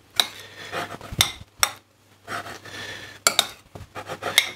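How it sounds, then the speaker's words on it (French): A utensil stirs vegetables and bulgur in a ceramic dish, producing close, intermittent clinks and scraping knocks in irregular bursts separated by short pauses. "Voilà, on va mélanger."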